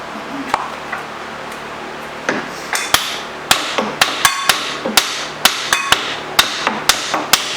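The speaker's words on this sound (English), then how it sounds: "Big enough for that hammer" A hammer strikes metal while a Monarch 10EE lathe tailstock is being taken apart. Sharp, ringing blows start sparse and then come in a rapid, uneven run of a dozen or more, close and loud.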